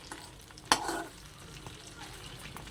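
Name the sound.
prawns frying in a pan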